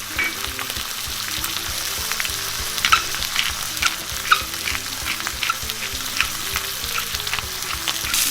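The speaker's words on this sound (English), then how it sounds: "We're gonna fry it for 3 minutes on each side." Food frying in a hot pan for homemade poutine, a loud steady sizzle with crackling pops and spatters throughout.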